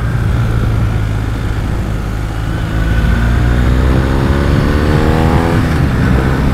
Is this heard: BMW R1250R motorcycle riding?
yes